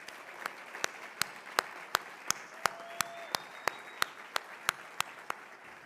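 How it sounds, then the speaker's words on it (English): At a memorial breakfast, the MC gets applause from a room: a soft wash of distant clapping punctuated by one nearby pair of hands clapping sharply and steadily, about three claps a second, with brief faint voices. "Let's give her another round of applause"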